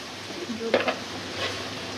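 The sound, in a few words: spices added to onion and oil, frying for fish curry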